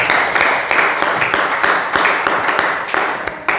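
Classroom of students clapping for a classmate, a loud, dense round of applause with uneven bursts that carries on steadily throughout, with no talking over it.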